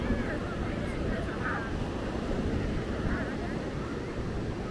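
Ocean waves breaking on a beach in Ghana, a steady loud rush of surf mixed with wind buffeting the microphone, with faint voices in the background.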